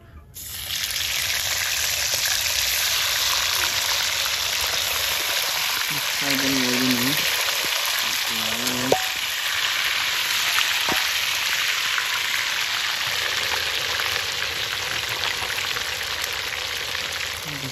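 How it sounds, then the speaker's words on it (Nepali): Fish frying in oil in a Nepali home kitchen, a steady loud hiss and crackle throughout with brief voices partway through. "ल फिस फ्राई हो"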